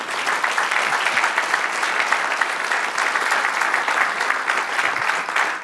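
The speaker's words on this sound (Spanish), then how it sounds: "Regálele un aplauso al Señor." Church congregation applauding during a worship service, a full, steady burst of many hands clapping that carries on evenly throughout, with no talk over it.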